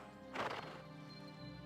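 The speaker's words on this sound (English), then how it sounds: "It better be my horse making noise" In Elder Scrolls IV: Oblivion, a horse gives a short, faint whinny over quiet ambient game sound.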